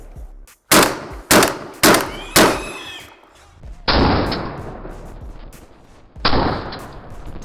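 Four sharp, loud semi-automatic shotgun shots fire in quick succession, followed by two longer blasts with rumbling tails, close and powerful.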